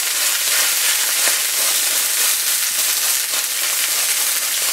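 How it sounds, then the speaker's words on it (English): A ribeye steak sizzles in a smoking hot pan, a loud, steady, dense hiss of frying fat that runs unbroken throughout with no voices. "Hear that sizzle?"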